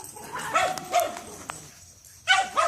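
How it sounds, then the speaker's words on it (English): Dogs bark excitedly at a neighbor walking his dog: several sharp, close barks in quick bursts, a short lull, then a fresh pair of barks, with some yelping in between and no speech. "the dog's about to start going crazy because neighbor's out walking his dog"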